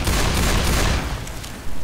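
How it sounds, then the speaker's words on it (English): Shotgun blasts from Left 4 Dead 2 on the Warcelona map, loud and dense, with sustained broadband gunfire and a fresh burst near the end. "I have 5 shots with the shotgun"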